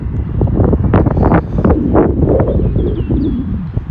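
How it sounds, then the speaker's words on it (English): Strong wind near the sea buffets the microphone in steady, loud gusts of low roaring rumble, with no voices over it. "It is a bit windy because we're near the sea"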